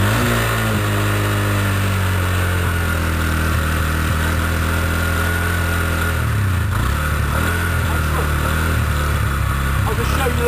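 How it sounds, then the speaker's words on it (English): A cold engine on choke turning over and catching, then running with a steady rough idle and occasional revs, loud and close throughout. "we're going to do a cold start"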